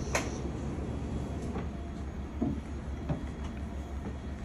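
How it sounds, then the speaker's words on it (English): The little red Bernina Express train runs on the Tirano to St. Moritz line. A quiet, steady low rumble carries faint scattered clunks and knocks throughout. "The Bernina Red Train travels the Tirano-St. Moritz section in less than 3 hours."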